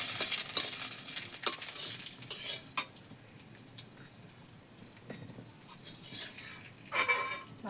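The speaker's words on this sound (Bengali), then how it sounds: "ভালো করে নেড়ে ভেজে তুলে রাখবো আমি মশলাটা।" Spice paste stirred and fried in oil in a kadai while making a silver carp fish curry, giving a steady close sizzle with scraping spoon strokes and occasional clinks of metal, gradually quieting midway and rising again.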